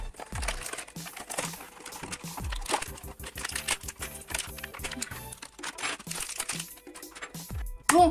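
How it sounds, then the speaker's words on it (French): Plastic and cardboard packaging of a Beyblade Burst Rise Hypersphere starter set being unwrapped and torn open, with steady close crinkling and crackling, scattered sharp snaps and rustles throughout, no talking. "Donc on va se la déballer."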